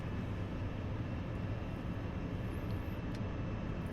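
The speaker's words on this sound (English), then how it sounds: "so we're going to pull the throttle back in" Steady jet engine drone of a MiG-21 in DCS as the throttle is pulled back, a fairly quiet cockpit hum that holds even throughout.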